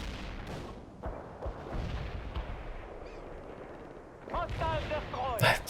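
Mortar and artillery fire in the real-time strategy game World in Conflict: Soviet Assault, a run of muffled booming thuds spread over a few seconds, mixed in with other battlefield noise and with someone talking over it.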